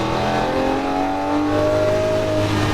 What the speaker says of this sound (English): Back on the power. Back to full throttle.